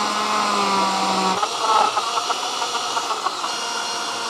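A blender whirs in a jar, mixing a dragon fruit milkshake; a steady close motor drone that shifts pitch and roughens after a second or so as the contents churn, with no voices.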